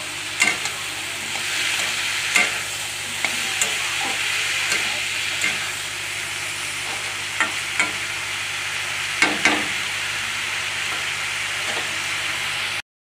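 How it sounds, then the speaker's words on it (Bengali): Potatoes fry in a pan at home for breakfast, a steady close sizzle and hiss with occasional scraping stirs and clinks, continuous throughout with no talking. "আমার মা আলু ভাজবে"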